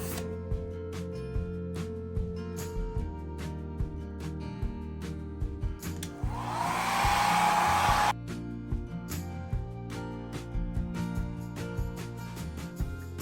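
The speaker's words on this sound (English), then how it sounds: "I'm gonna use the blow dryer." A hair dryer whirs steadily for about two seconds partway through, a broadband rush over a background of music and clatter, then cuts off.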